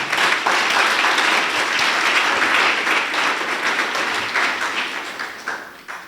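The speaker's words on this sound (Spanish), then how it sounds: "Dele un fuerte aplauso al Señor." Applause from a church congregation after the pastor's call during a sermon, dense sustained clapping that stays loud throughout and tapers slightly at the end.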